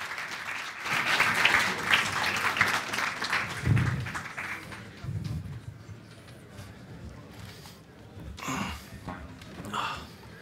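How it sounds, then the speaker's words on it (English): Conference attendees applaud as panelists walk onto the stage, a moderate round of clapping that fades after a few seconds, followed by footsteps, shuffling and a few brief sounds. "Give them a warm round of applause."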